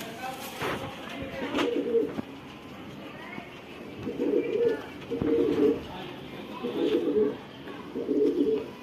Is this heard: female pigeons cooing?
yes